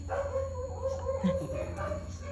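A dog whimpers and yips in short, close bursts, with a steady whining tone running underneath.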